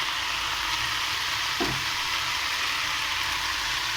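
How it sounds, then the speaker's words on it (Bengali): Chaudda shak leafy greens dropped into hot oil, a steady close sizzle and hiss with a brief clatter partway through. "এবারে আমি এই তেলের মধ্যে শাকগুলো দিয়ে দেব।"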